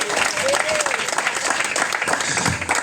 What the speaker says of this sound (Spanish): Bríndale un fuerte aplauso al que vive y reina